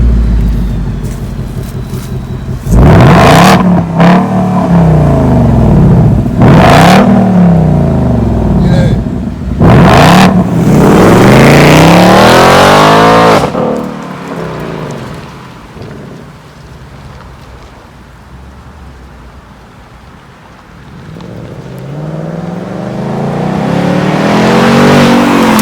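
A 2019 Ford Mustang GT Premium Performance Package 1 in track mode, its engine revved hard in several loud, close bursts that rise and fall, then winding up in longer sweeping revs before settling and building again.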